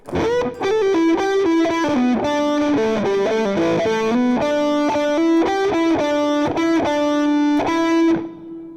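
A distorted electric guitar slowly plays sections of a song, a chugging riff of repeated chords and single notes, loud and continuous, ending on a held note.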